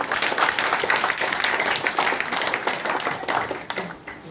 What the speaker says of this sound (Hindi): सबके लिए एक ताली बजाओ।